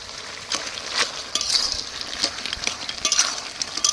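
Water lily stems frying in oil in a pan for a crab dish, a steady soft sizzle with bright crackles and occasional stirring scrapes, close and moderately loud with no voices.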